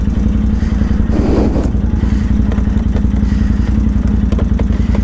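A Can-Am Outlander 800 ATV on 28-inch tires idles and revs close by, with a loud, steady, rapid engine pulse and a brief clattery swell as it is rocked into gear to pull away.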